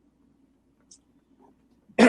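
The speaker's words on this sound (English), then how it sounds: "What a time to have to cough." A single sharp cough bursts out near the end, loud and close, after a stretch of near-silence with a faint low hum and a couple of tiny clicks.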